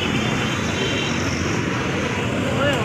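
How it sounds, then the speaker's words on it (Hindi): Steady, dense street traffic in a busy Bhiwandi market neighbourhood, a continuous wash of engines and road rumble that stays loud and unbroken throughout, with faint voices mixed in. "ये रही ट्रैफिक।"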